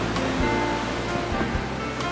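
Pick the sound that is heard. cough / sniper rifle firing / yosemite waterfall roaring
yosemite waterfall roaring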